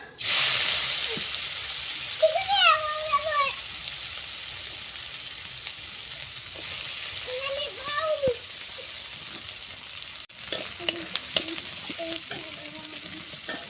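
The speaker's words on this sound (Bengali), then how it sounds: "এখন হচ্ছে তেলাপিয়া মাছের মাথাগুলা বেজে নেব" Tilapia fish heads fry in hot oil with a steady broadband sizzle, broken by a few clattering stirs; short bird-like chirps come and go over the frying and a voice is briefly heard.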